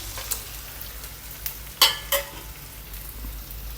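Chopped onions and curry leaves sauté in a pan with a soft, steady sizzle, broken by two sharp utensil knocks midway and a few lighter taps.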